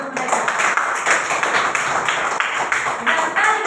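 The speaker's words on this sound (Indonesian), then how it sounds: "Berikan tepuk tangan untuk mereka." Classroom audience applauding during a teaching practice session, a steady wash of many hands clapping at close range, continuous for the whole stretch with talk mixed in.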